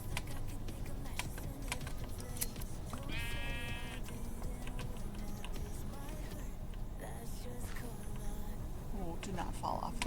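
Sheep bleating on a farm, a clear wavering bleat standing out midway over steady background noise and clicking sounds.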